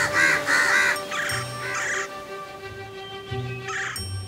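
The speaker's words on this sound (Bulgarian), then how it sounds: "Госпожа Коинг видяла господин Кол, повикала другите гарвани и скоро всички се събрали край гнездото му." Several crows caw in repeated harsh bursts, close and loud, in a fairy-tale scene where a flock gathers around a nest; low tones sound between the calls.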